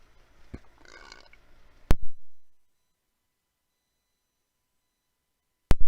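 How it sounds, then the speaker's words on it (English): A short, close burp at the start, followed by sharp clicks or knocks and then a sudden silence, with another abrupt knock at the end; no talking. "Sorry, I had to burp."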